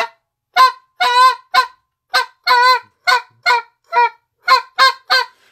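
Goose honk notes blown on a goose call: about a dozen short, sharp honks at close range, some single and some drawn out, in an uneven rhythm with silence between.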